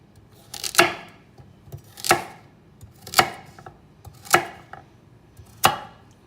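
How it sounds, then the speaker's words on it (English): Carrots chopped into pieces on a board for a dwarf rabbit's vegetables: five crisp, evenly spaced knife strikes, close and clear, with quiet pauses between and no talking. "the carrots we'll chop up into pieces just about this big"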